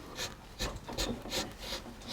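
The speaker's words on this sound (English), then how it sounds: "So my first whirl, I'm using a deep gouge," A deep gouge carving wood on the shell of a snail relief, giving close, steady rasping strokes that repeat in a slow rhythm of four or five scraping cuts, with no talk.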